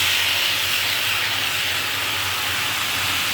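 Boiled banana flower dropped into hot oil with fried spices, sizzling in a steady, loud, continuous hiss that holds evenly throughout with no talk.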